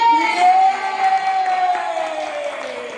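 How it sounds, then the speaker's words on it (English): A children's entertainment group audience cheers and claps after a magic trick, loud crowd of voices with whoops and a sustained high shout carrying over the clapping throughout. "Give Charles a round of applause."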